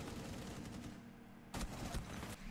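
Pistol gunfire in the Rainbow Six Siege video game, dense bursts of rapid shots over a constant noisy game backdrop, with a louder burst partway through.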